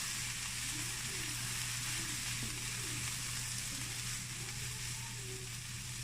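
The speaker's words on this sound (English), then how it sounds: "Just stir this around. Cook all those spices in there for like about a minute." Spices fry and get stirred in a pan for a veggie taco filling, giving a steady, faint sizzle with soft scraping movements throughout.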